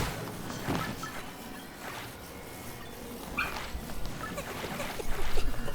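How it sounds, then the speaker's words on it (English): A small dog gives short puppy-like yips and whimpers in a game-play setting, a few brief bursts spread through the clip over a busy background, with faint voice activity around them. "Just sounded like an actual puppy bark."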